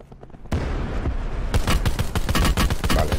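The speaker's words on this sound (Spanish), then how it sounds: "Estaban pegando tiros." Gunfire in Call of Duty Black Ops 4 on PS4 Pro: after a brief lull, loud close bursts of rapid shots start and build into dense, overlapping volleys of automatic fire.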